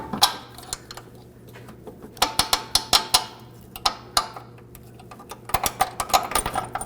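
A ratchet clicks in quick rapid bursts while loosening a nut on the front control arm of a 2006–2009 Audi S4, close and crisp, with short pauses between runs of ticks over a low steady hum.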